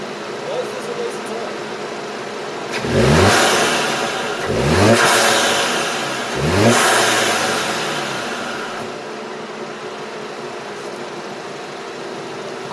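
A VW MK7 GTI with an intake elbow and turbo muffler delete revs three times in quick succession from idle, each blip rising and falling, heard close and loud against a steady idle.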